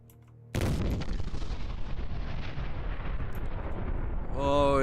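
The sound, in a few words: mortar firing in Treasure Planet: Battle at Procyon video game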